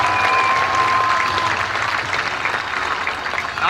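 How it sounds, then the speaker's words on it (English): Steady applause from an audience at a Class of 2020 graduation ceremony, a full, sustained burst of clapping that gradually thins toward the end. "Give them a round of applause."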